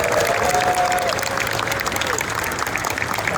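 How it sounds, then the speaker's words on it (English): Applause and crowd noise for Richard Petty at the SEMA 2024 show, a dense, steady wash of clapping mixed with cheering and chatter that stays loud through the whole moment. "One more time, a round of applause for Richard Petty"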